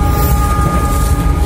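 Steady, loud rumble and rattle of the Wijaya Kusuma passenger train running between Jember and Mojokerto, heard continuously from inside the carriage with no talk.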